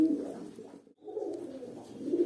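A male fantail pigeon coos in low, throaty, rolling bursts, close and fairly loud, with a brief pause midway before the cooing resumes, with no talking.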